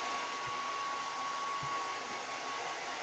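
A hair dryer runs continuously and loudly, a steady broadband whoosh with a fixed whine through it, nearby and uninterrupted for the whole stretch.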